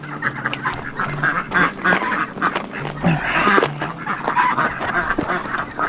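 Ducks and geese honk and quack steadily around a backyard duck pool, a busy, fairly close chorus of overlapping calls with a constant outdoor background and no talking.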